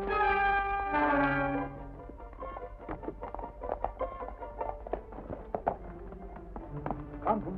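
Horses' hooves clip-clop and run out back on a Western homestead, a series of sharp rhythmic taps following a sustained musical chord at the start, moderately near.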